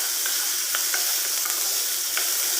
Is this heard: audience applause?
no